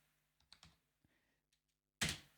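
Keys tapped on a computer keyboard while a file name is entered in Ableton, a few scattered soft clicks followed by one louder, sharper keystroke at the end, close and quiet with no talking.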